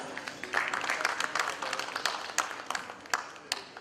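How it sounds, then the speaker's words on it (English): Scattered clapping from a conference audience welcoming a guest speaker, a thin, uneven patter of hands at moderate distance lasting a few seconds. "Welcome, sir. Let's have a round of applause."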